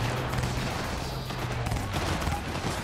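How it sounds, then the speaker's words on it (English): Gunfire in the Cyberpunk 2077 video game, a dense continuous barrage of shots that stays loud and steady throughout with no pauses. "the gunshots."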